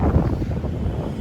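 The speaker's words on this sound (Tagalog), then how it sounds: "Medyo malakas ang hangin ngayon kasi masama ang panahon" Strong wind blusters across a microphone beside a creek in Taguig in bad weather, a steady low roaring buffet for about a second with no voices.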